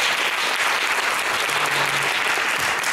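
A studio audience at a Polish discussion programme breaks into warm, dense applause for guest Edyta Biernacka, a steady close wash of clapping with no speech over it.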